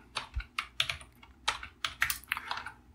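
Typing on a computer keyboard at a Linux command line: quick bursts of key clicks in an uneven rhythm, close and fairly quiet, with no talking.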